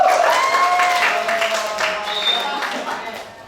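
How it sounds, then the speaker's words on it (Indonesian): A classroom of students claps for a presenting group during a university teaching session: a short, loud burst of applause that fades gradually, with voices and a faint tonal sound over it. "tepuk tangan dulu untuk kelompok"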